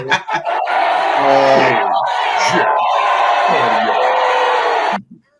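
A crowd boos loudly and steadily for about five seconds, voices blending into a sustained jeering roar that cuts off abruptly.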